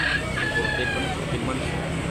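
White chickens, including a rooster, at a backyard breeder's yard, with a sustained crow ringing out against steady background noise and clucking of fowl nearby.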